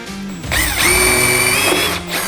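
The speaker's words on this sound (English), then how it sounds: "Now it drills out extremely easy, so don't have trepidation about this being a difficult step" A power drill with a 3/32 bit bores a pilot hole for Bronco tail lights, a steady high motor whine that rises as it spins up, holds for about a second and a half, then winds down, close and loud with no talk.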